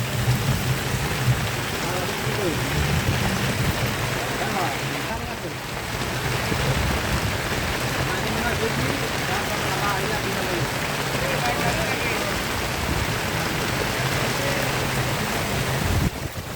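Heavy rain pours steadily onto a flooded, waterlogged town street on Alupatti road, a dense, even wash of splashing water that continues unbroken throughout.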